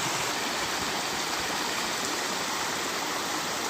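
Loud, steady rush of rainwater flowing close by in a roadside drain in hilly Rwanda, a continuous broadband gush like a channel running full, with no voices.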